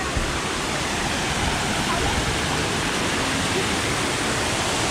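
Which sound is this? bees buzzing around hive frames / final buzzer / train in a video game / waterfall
waterfall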